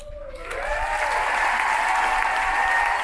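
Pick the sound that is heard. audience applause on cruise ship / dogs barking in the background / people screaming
audience applause on cruise ship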